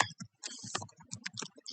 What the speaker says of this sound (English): let me just finish typing real quick